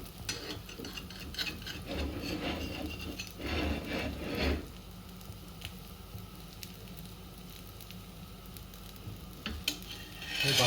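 Dosa batter spread and scraped across a new cast-iron tawa, with rasping strokes and a soft sizzle that grow louder over the first few seconds, then a quieter steady hiss with occasional scrapes.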